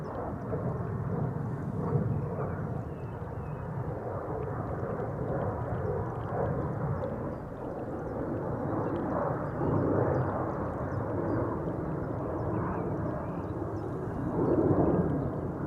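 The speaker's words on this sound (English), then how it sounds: "this is a KLM 737-700 outbound to Zurich" A KLM Boeing 737-700 jet departs Schiphol Airport at night, its engine roar a broad, steady rumble heard from a distance, with gentle swells in loudness throughout.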